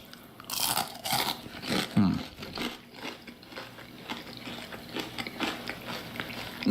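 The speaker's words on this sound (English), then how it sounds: "It sounds like a crouton." Crispy food crunches between someone's teeth like a crouton, several close crackling bites followed by steady chewing, with no talking.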